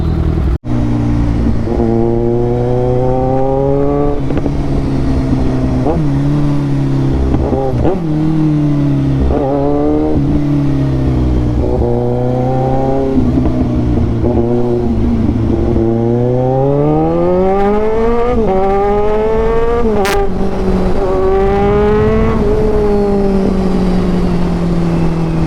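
Kawasaki Ninja 1000 with a full Austin Racing exhaust system, ridden through city streets: a loud, close engine note rising and falling through repeated revs and gear changes, with crackling pops between throttle blips.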